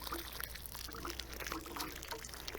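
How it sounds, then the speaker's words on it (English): Water poured from a watering can or hose onto a newly planted pineapple tomato plant in garden soil, a soft, continuous trickle and splash, faint and steady, with no talking. "Now we're going to water it in."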